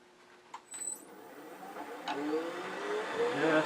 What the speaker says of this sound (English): I'm going to use my detail gouge again to kind of reduce that.